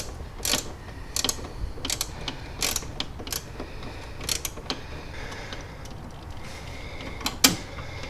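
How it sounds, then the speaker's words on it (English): Clamping the hose that runs from the clutch master cylinder to the brake reservoir on a Subaru WRX gives a string of sharp, close clicks and ratcheting snaps, spaced irregularly over a low steady background. "we're just clamping that hose coming from the clutch master cylinder to the brake reservoir"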